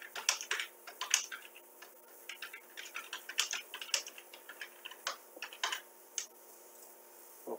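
Fingers typing a wrong login on a computer keyboard, with quick irregular bursts of clicking keystrokes, fairly close and crisp, with short pauses between runs of taps and no talking.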